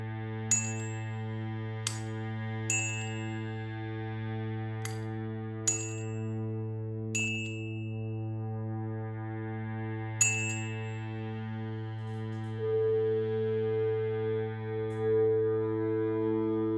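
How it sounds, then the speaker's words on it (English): Railroad spike tuned to E, its long ringing tone sustaining steadily while sharp metallic taps strike repeatedly over it, quiet overall with a swelling resonance near the end. "that is the sound of the railroad spike"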